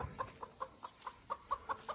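Chicks in a home garden give a quick series of soft, evenly spaced cheeps and clucks, about ten short calls in two seconds, faint and close with no talking.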